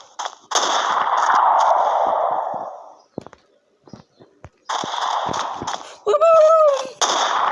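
Gunfire from the video game Special Forces Group 2 in sniper mode: a long loud burst, scattered sharp shots, then another burst and a whining tone.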